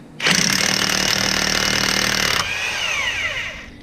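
Pneumatic impact wrench loosening the 27mm primary sheave bolt on a Yamaha Wolverine X4 UTV, a loud sustained hammering burst of about two seconds that drops off into a whirring spin-down, with no talk.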